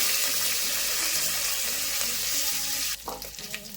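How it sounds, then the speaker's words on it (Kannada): Curry leaves and tempering spices such as asafoetida, mustard seeds, cumin and fenugreek crackle loudly in hot oil for sambar, a dense close sizzle that drops sharply near the end, leaving quieter clinks. "ಇವಾಗ ಒಂದು ಸ್ವಲ್ಪ ಕಬ್ಬಿನ ಸೊಪ್ಪು ಹಾಕೊತಾ ಇದ್ದೀನಿ"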